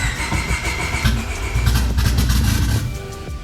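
A car engine cranks and starts after ignition timing adjustments, a loud, continuous low rumble and churn filling the whole moment, with no voices.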